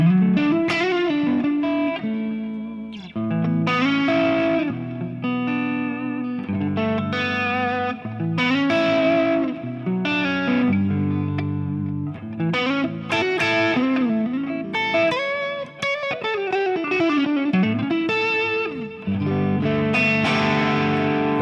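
Electric guitar played through a Fractal modeler with an UltraRes cabinet, set to a half-crunch tone with effects; continuous chords and melodic lines ring out loud and close, with no talking.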